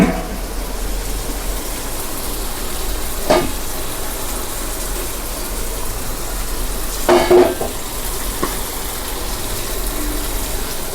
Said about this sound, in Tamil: வதக்கியது நல்லா வதங்கி போச்சு